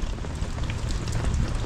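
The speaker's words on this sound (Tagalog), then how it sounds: "Yung tunay ulan yan." Rain falls steadily in a dense, even hiss across the whole clip, with no talking.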